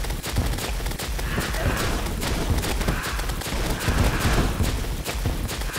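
The Ancient Flier boss in the video game Terraria firing rapid, repeated projectile shots in a dense rattling stream, with thumping impacts and game effects throughout, loud and close.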